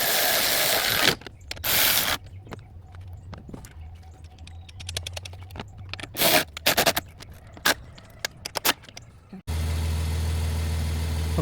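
Ratcheting and scraping clicks from tightening the 19 mm strut top nut during an air bag replacement on an Infiniti Q50, in short irregular bursts, ending with a steady engine-like hum.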